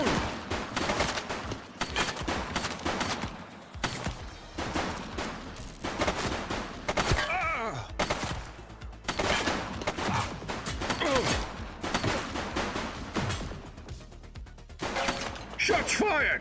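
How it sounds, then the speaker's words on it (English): Rapid volleys of gunfire in a police shootout in the video game The Precinct, bursts repeating almost nonstop over about sixteen seconds with crashes mixed in, loud and close, with voices speaking over parts of it. "Shots fired!"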